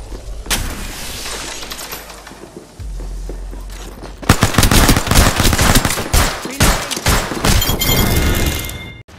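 Gunfire erupts in an Apex Legends firefight: scattered shots, then dense rapid automatic bursts with sharp cracks and thuds that grow louder and nearly continuous toward the end.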